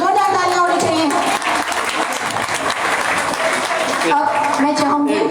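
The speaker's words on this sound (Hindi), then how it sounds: "जोरदार तालियां होनी चाहिए" Loud, dense clapping from a gathered audience at a welcoming ceremony, continuous throughout with voices talking and calling over it.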